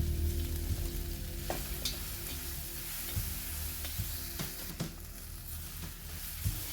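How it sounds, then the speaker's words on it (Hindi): Mashed green pea paste for nimona fries in a pan while it is stirred, giving a steady close sizzle with occasional scraping knocks. "इसी में हम वो सारा पेस्ट जो हमने मटर का बनाया हुआ था उसको डाल करके हम इसे भूनेंगे"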